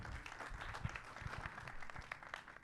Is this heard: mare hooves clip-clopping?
no